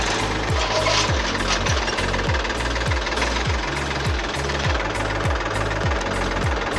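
A Massey Ferguson Dyna Track 241 DI tractor's diesel engine runs steadily nearby, a loud rapid rhythmic knocking chug that stays even throughout with no talking.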